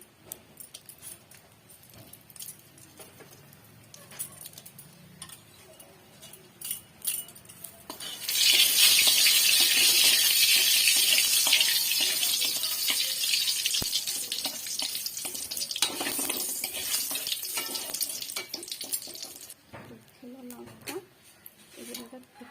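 Dried red chilies and whole spices hit hot oil and give a loud, bright sizzle that swells suddenly and hisses steadily for about ten seconds before dying down, with voices talking before and after.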